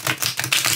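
A deck of Cosmic Tarot cards is riffle-shuffled up close, giving quick, loud bursts of rattling card flutter in short successive waves.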